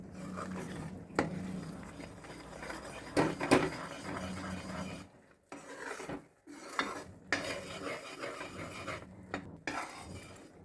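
A Mysore Pak mixture cooking in ghee is stirred steadily in a pan, the spoon giving soft scraping and rasping strokes with occasional metallic clinks. The sound is close and continuous, with short pauses between strokes.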